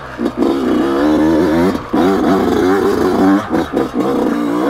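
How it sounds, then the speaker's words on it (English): A 2020 Yamaha YZ125X two-stroke dirt bike ridden in second gear, its engine buzzing loud and close with rising and falling revs and a few brief drops in throttle. "let's see if the bottom power of this 125X would be sufficient"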